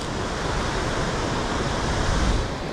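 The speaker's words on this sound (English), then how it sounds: "It's even running down the side of the embankment quite fast, because there's another little waterfall comes down the side" Thornton Force waterfall pours steadily into its pool, a loud, unbroken rushing roar with no voices.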